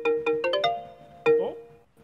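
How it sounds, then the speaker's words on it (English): A short electronic ringtone-style melody resembling a Nokia tune plays alone: a few quick bright notes, a held tone, then a renewed note with a bending, warbling pitch that fades out. "Sounded like a Nokia ringtone."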